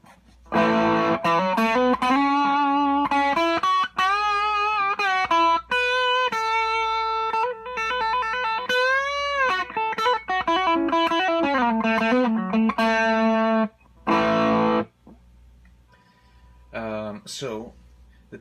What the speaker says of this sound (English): And here's the pedal engaged.